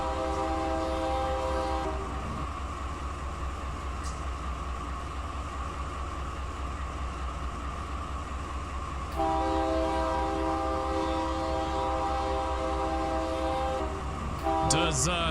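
A heavy freight train slowing in the Tehachapi Mountains makes a loud, sustained rumble with steady droning tones. The engine note shifts partway through and rises again briefly near the end.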